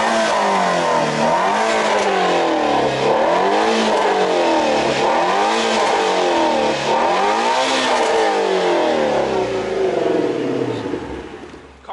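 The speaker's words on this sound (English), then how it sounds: "Car's running, warmed up, oil pressure's up to temp." A Ford Shelby GT350 V8 revs repeatedly from a warm idle, loud and close, each blip rising and falling in a steady rhythm of roughly one per second before settling back to idle.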